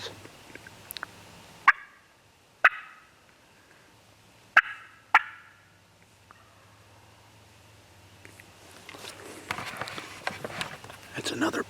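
A wild turkey gobbles several times in quiet open country on public land in Kentucky, each call a short rattling burst at a moderate distance. Rustling and footsteps close by pick up near the end.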